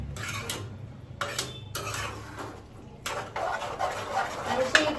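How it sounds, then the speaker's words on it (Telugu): A spoon stirs bhaji, a spiced vegetable curry, in a pan, making clinking scrapes in short bursts with pauses. A low engine-like hum runs underneath, and a voice speaks at times. "మంచి ఇట్లా మిక్స్ చేసుకుంటున్నాను"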